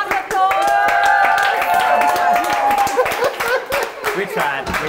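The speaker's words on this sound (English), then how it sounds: "Everyone round the applause." At a festive vegan cooking show, the audience gives a round of clapping after a team finishes its dish. Hand claps mix with chuckles and nearby voices talking over them.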